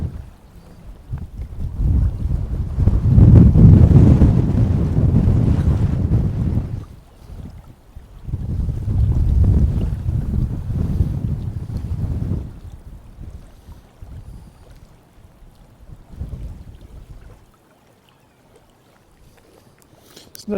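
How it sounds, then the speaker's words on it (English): Heavy wind buffets the microphone in loud, low rumbling blasts on the sandbanks at Wells-next-the-Sea, easing briefly then returning before dropping off near the end. "Mega windy."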